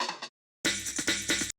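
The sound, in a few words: short drum fills in a track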